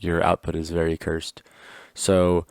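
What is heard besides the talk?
No everyday noises stand out.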